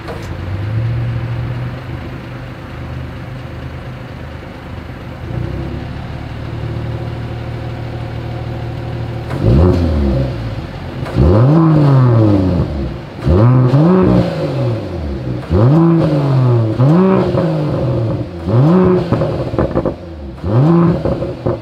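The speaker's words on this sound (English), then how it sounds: "here is that exhaust clip" 2021 Mercedes-AMG GLE Coupe with AMG performance exhaust, first idling steadily, then revved repeatedly in sharp, loud bursts with a clear rhythm, heard close up with no talking.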